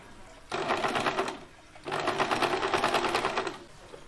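A sewing machine stitches elastic, held normally and not stretched, onto a small cotton frock for a Laddu Gopal idol, whirring in two quick bursts separated by a brief pause.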